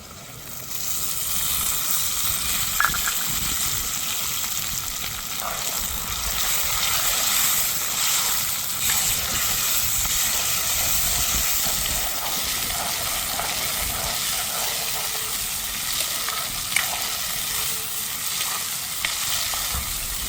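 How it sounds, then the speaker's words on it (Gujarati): Tomato gravy hits a hot pan for a potato and pea curry, a loud, steady, close sizzle and frying hiss that holds throughout, with a few faint stirring clinks. "તો મિત્રો આપણે નાખી દઈશું ટમેટાની ગ્રેવી"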